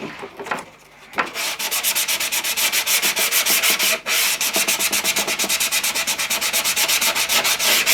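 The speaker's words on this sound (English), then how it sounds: "Bit of sand down, so if there's a bit of glue in there, when you sand it, it'll take that piece back." Sandpaper rubs over a glued piece of a model chalk crushing silo in quick, even back-and-forth strokes, loud and close, after a short pause near the start, with no talking.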